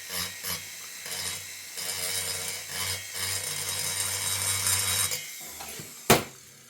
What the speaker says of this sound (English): I grind just a little bit so that I'm knocking the plating off without it chipping.